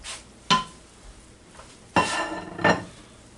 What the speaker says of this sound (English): now let's go come over here and dump these onions in here.